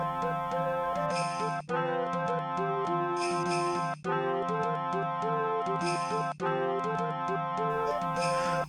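Bright synthesized Quest 64 game music on the Nintendo 64, with a looping, repetitive melody over steady chords, cutting off briefly a few times, playing alone without speech.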